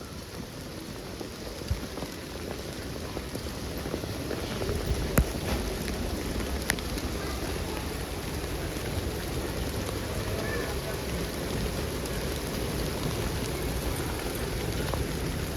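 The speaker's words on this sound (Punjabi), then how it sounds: "ਮੀਂਹ ਦਾ ਕੰਮ ਬਾਈ ਖਾਸਾ ਵੱਧ ਗਿਆ" Steady rain pours down in a constant dense hiss, with occasional louder drops and a low rumble underneath, no voices.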